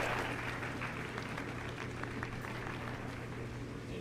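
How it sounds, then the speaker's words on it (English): Distant, faint audience applause for debaters after a Q&A, a soft continuous patter of clapping with a low steady hum beneath. "Let's give a round of applause for our debaters for this Q&A"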